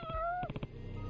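Short drawn-out meow from a cat in the video game Judgment, followed by a few quick soft pulses of game sound and then a low quiet ambience.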